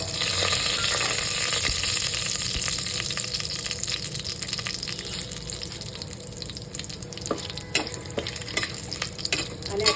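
Whole spices, including bay leaf, cinnamon, cardamom, peppercorns and cloves, frying in a pan for soybean pulao, a steady hissing sizzle with a low rumble and sporadic stirring clicks, close and without voices.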